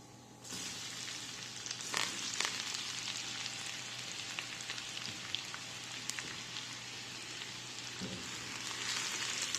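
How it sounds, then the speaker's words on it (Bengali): Cumin seeds and garlic frying in hot oil in a pan for lentil dal, giving a steady, close crackling sizzle throughout, with a few brief louder pops and no talking. "ব্রাউন কালার হওয়া পর্যন্ত ভাজবো"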